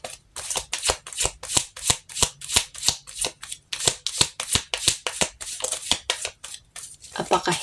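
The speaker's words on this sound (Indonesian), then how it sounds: "kita shuffle kartunya" Tarot cards are shuffled in quick, rhythmic bursts, a crisp riffling repeated many times close to the listener.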